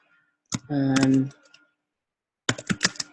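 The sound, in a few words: typing a note on a computer keyboard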